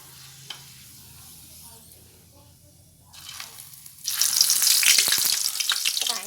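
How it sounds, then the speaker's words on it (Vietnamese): Vegetarian-style pork skin hits hot oil in a pan: a few quiet stirs and scrapes, then from about four seconds a loud, dense, crackling sizzle that stays steady to the end. "Các bạn chiên như vậy thì lần lượt mình chiên cho đến hết cái dĩa da heo của mình nha."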